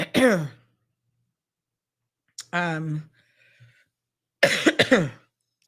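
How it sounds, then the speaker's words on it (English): Three separate coughing fits, each a short burst of harsh, rasping coughs, spaced by pauses of silence, close and fairly loud. "This cough is killing me."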